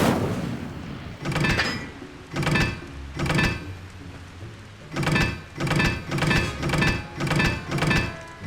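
Incendio fire spell cast repeatedly in Hogwarts Legacy, a series of loud whooshing bursts, three spaced apart and then five in quick rhythmic succession, each a short flaring blast.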